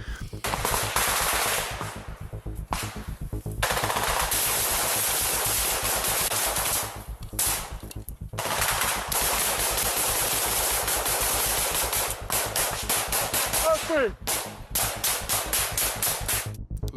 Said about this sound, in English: rounds are snapping right next to us